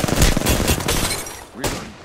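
Rapid automatic gunfire in Apex Legends, dense bursts crackling early, easing off, then one more sharp shot near the end.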